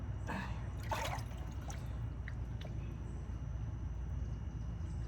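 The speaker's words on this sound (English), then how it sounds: "I'm just going to get rid of some of this water." Water splashes and trickles as it is poured out, a few sloshing bursts early on over a steady background hiss.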